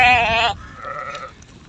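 Sheep bleat in a village flock, one close, loud, quavering bleat followed by fainter bleats further off.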